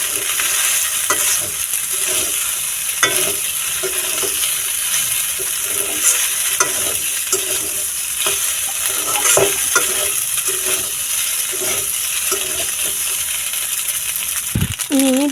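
Chicken pasta frying in a pan with steady sizzling throughout, broken by repeated scraping and clinking stirs of a utensil against the pan, close and fairly loud with no talking.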